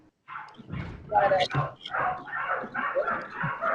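Several dogs bark and yip repeatedly in quick bursts, fairly close and loud, overlapping with a person talking.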